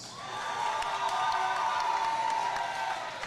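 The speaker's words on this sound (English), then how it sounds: "those of you who feel like Jacob Lira won the fight, round of applause" Crowd at an MMA fight cheering and applauding for fighter Jacob Lira, a steady wash of cheers, whoops and claps at moderate level that swells briefly and tapers near the end.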